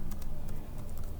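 Quick keystrokes on a computer keyboard, a string of irregular light clicks close up over a low steady hum, with no talking.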